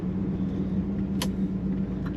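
A red 1970 Chevrolet Camaro Z28 with an automatic transmission runs with a steady low engine rumble and exhaust drone from inside the car, holding an even tone, with one brief sharp click partway through.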